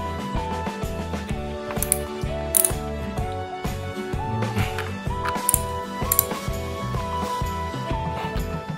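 A wrench ratchets steadily while tightening bolts on battery terminals for a 24-volt solar battery bank, a continuous metallic clicking and grinding that carries on for several seconds with no talk.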